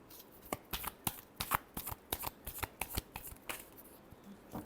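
Tarot cards shuffled by hand, a rapid run of crisp riffling snaps and flutters in quick irregular rhythm, close and fairly quiet with no talking.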